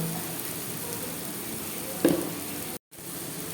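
Whole spices frying in oil in a pan for a Bengali vangal fish curry give a steady close sizzle, with a brief louder burst midway and a moment of near silence just after.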